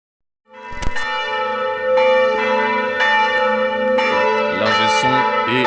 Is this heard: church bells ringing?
yes